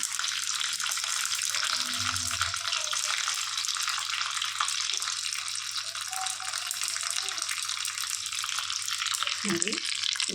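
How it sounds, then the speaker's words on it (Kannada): Cumin seeds and curry leaves fry in hot oil for a tempering, making a loud continuous hissing sizzle that holds steady throughout, with a faint voice now and then underneath. "ನಿಮಗೆ ಸೌಂಡ್ ಕೇಳಿಸ್ತಿದೆ ಅಂತ ಅಂದ್ಕೊತೀನಿ ಸ್ವಲ್ಪ ಜೀರಿಗೆ ಎಲ್ಲ ಸಿಗಬೇಕು ಎಣ್ಣೆಲಿ"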